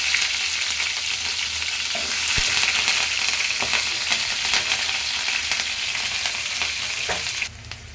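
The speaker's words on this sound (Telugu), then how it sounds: "అవి అయితే ఫ్రై అవుతున్నాయి" Mustard seeds and other ingredients frying in oil in a pan for a chicken gongura curry, a constant close sizzle with faint crackles and stirring scrapes throughout, no talking.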